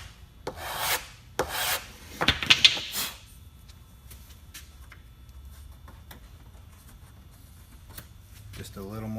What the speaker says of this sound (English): I just use a sanding block, some 80 grit paper,